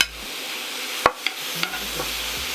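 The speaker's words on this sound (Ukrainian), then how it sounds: "На пательню повертаю гострий перець та часник." Hot pepper and garlic hit a hot pan for shakshuka, giving a steady sizzle with a few sharp clicks and scrapes of stirring, close and fairly loud.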